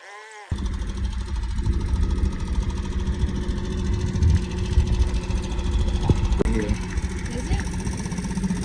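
A steady low outboard engine drone runs throughout, warmed up and idling, rumbling close by with people talking over it and a brief knock near the end.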